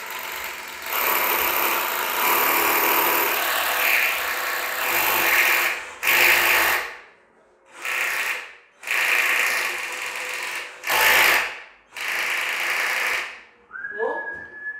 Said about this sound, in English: The drill, it's got to be level.